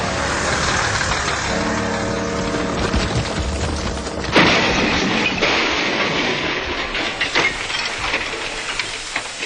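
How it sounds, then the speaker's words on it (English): A heavy quarry lorry loaded with rock labouring on a steep road, a rumbling engine with clanks and a sharp bang midway, then continuing rattles and thuds. "That lorry's in trouble"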